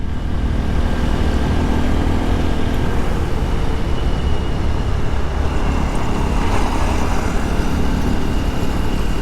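A Honda XR150L dual sport motorcycle rides over gravel, a steady engine drone with continuous tire crunch and wind rush throughout, with no talk heard.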